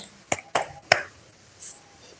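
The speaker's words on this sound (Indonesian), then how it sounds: "Nanti konsepnya Bapak Ibu tepuk tangan." Audience members in a classroom training session clap hands as an ice breaker: three sharp, separate claps close together, followed by a brief voice.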